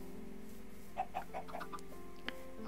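Several short clucks from Minecraft chickens sound in quick succession over a steady electronic background tone, followed by one more cluck near the end.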